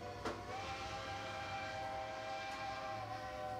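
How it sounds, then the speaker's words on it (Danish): Steam locomotive Best Friend of Charleston, the first in the USA, sounds a sustained steam whistle over a low rumbling chuff, heard at moderate distance with a brief hiss near the start. "USA's første damplokomotiv."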